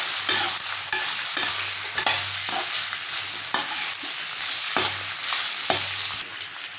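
Close scraping strokes of a utensil stirring potato slices in a pan, repeated at a steady rhythm over a soft sizzle of oil.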